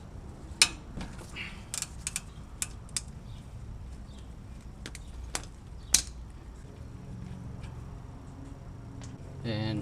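A 19 mm wrench works the upper control arm bolt on a Lexus LX470, giving scattered sharp metallic clicks and clanks against a quiet garage background, close to the listener.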